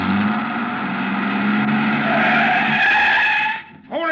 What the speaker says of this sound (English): He turned over the engine and switched on the lights before I could get clear.